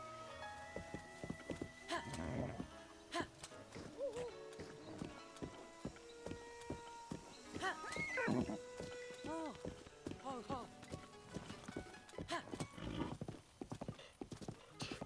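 Hooves clip-clop steadily while a horse whinnies a few times in Zelda: Breath of the Wild, mixed with game music and a voice talking over it.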